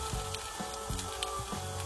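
Raw young chicken lowered onto a hot, already greasy pan for grilled soy-sauce chicken, giving a steady close sizzle and frying hiss with small crackling pops, heard alone without talk.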